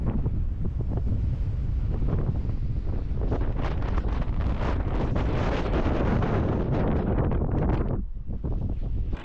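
Strong wind blowing on the Malibu coast, a loud continuous roar buffeting the microphone, with rumbling gusts that briefly ease near the end.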